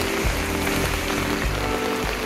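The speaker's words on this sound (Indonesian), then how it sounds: "Ini tapi kondisinya hujan ya" Steady outdoor rain pours down onto surfaces, a dense continuous hiss that stays loud from start to finish, with no voices over it.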